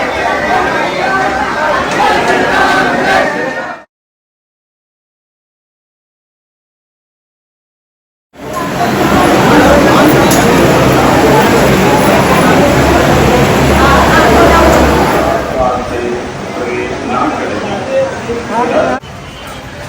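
Dense babble of a large crowd at the exit of a temple in Ayodhya, a steady close wash of many overlapping voices, broken by a few seconds of complete silence partway through.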